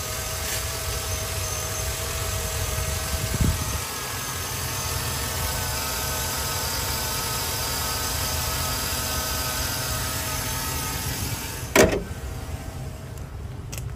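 A 2005 GMC Yukon SLT's 5.3-liter V8 idles under the open hood, giving a steady, even drone with a low rumble that holds throughout, broken only by a couple of brief knocks.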